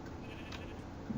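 A sheep in the Minecraft video game bleats steadily through a short stretch, moderately loud and close, with a brighter rise at the end and no talk over it.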